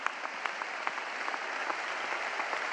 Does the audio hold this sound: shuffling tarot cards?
no